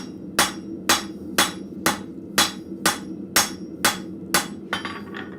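Blacksmith's hammer striking steel on an anvil while forging a shelf bracket with hooks: nine sharp, ringing metallic blows at a steady rhythm about half a second apart, close and loud, with no talking.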